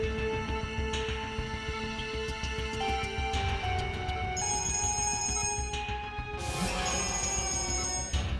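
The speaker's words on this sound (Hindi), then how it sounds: "बार-बार फोन आ रहा है" A telephone rings repeatedly in a quiet room, its electronic tones sounding in steady bursts with no voices.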